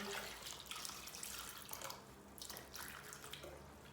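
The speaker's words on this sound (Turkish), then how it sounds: "Üzerine geçecek kadar bir su veriyoruz" Tap water pours steadily into a pot of peeled potatoes, a continuous splashing rush lasting about four seconds with no voices.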